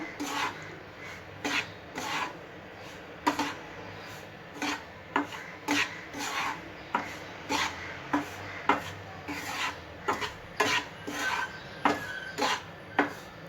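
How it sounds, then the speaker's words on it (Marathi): Semolina (rava) dry-roasting in a pan for karanji filling, stirred with a spatula in a steady series of short scraping rasps, close and fairly quiet, with no talking. "रवा चांगला लाल होईपर्यंत भाजून घ्यायचा."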